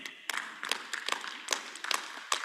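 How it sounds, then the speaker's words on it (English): Scattered audience applause in an online education sharing session, several irregular claps spread across the moment, fairly faint and thin, with no talk over them. "Ladies and gentlemen, let's give applause again."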